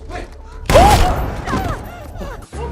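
A sudden loud gunshot burst in a film scene plays over dramatic score, followed by a continuing wash of music and noise, heard close and prominent.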